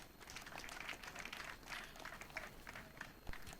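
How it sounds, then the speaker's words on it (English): An audience at a road construction flag-off ceremony in Kuje, Federal Capital Territory, applauds the FCT minister with faint, distant, steady clapping under a hum of room noise. "Please, let's give him a warm round of applause."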